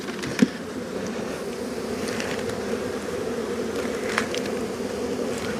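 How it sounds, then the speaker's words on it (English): A dense, steady hum of many honeybees buzzing close by, continuous throughout with a few faint clicks and knocks. "Time to shake some bees"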